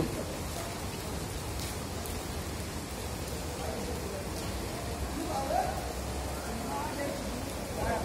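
Heavy rain pours steadily and loudly under a shelter where people wait it out, a dense, unbroken hiss with a few faint voices in the background.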